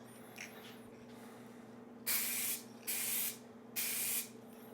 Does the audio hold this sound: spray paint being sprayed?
yes